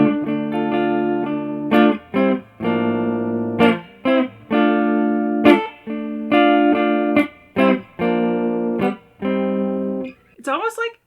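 Electric guitar through a JHS 3 Series Flanger pedal, playing sustained chords and short picked phrases with a swirling, sweeping modulation effect, loud and close, no voices.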